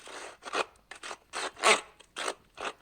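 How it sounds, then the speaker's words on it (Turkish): Several quick rasping zips in the video game Minecraft, like a zipper being pulled open in short strokes, repeat in an uneven rhythm. "Fermuar ses. Fermuar mı açılıyor abi?"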